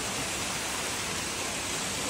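Water gushes steadily from running well motor pumps at a village storage pond, a loud, dense, unbroken rush with no pauses.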